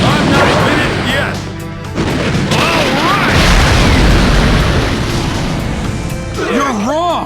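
A fire style jutsu explodes in Naruto Shippuden: Ultimate Ninja Impact with loud, sustained booming blasts and crashing rumble. Shouted character voices rise over the blasts near the end.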